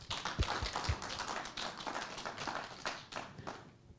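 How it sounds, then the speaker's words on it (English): Participants clapping at a virtual end-of-year stakeholders lunch, with a burst of irregular hand claps and taps of moderate loudness that thins out after a few seconds. "I think we need to have a good clap for Professor."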